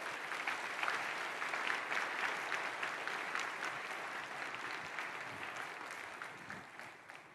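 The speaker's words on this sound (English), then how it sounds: "Let's give them a round of applause" Applause from a large keynote audience at SAP Sapphire for the ASUG Board of Directors, a broad, sustained clapping heard from some distance that holds steady for several seconds before gradually tapering off.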